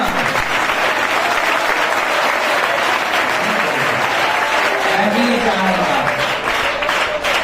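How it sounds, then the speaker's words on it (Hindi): Audience applause during a Jain religious training discourse: dense, steady clapping from a large seated crowd, loud and continuous throughout, with a faint voice or murmur showing through near the end. "कुछ लोगों ने ताली भी बजाई, बजाओ ना"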